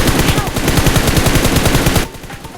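Loud, rapid automatic gunfire in a continuous burst in the mobile game BGMI (PUBG Mobile), then stopping abruptly.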